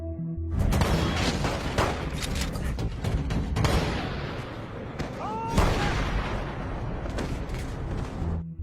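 A film shootout erupts in dense gunfire, with rapid overlapping shots and heavy booms layered over a rumbling action soundtrack, loud and close throughout, with a voice narrating underneath.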